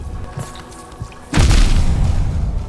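An explosion goes off in the Hollow Knight video game, a sudden deep boom that follows quieter game sounds and then leaves a loud, rumbling roar that lasts to the end.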